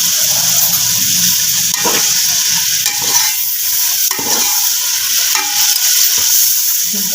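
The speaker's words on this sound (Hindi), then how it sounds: "तो साथ ही हम इसमें चिकन ऐड कर देंगे, इसको भी अच्छे से ब्राउन कर लेंगे प्याज का कलर में" Chicken browning in a pan with onion paste and vinegar for achari chicken macaroni, a loud, constant close sizzle with periodic spatula stirs and scrapes against the pan.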